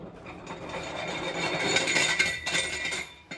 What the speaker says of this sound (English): You can hear the drum continue to turn after the machine's actually off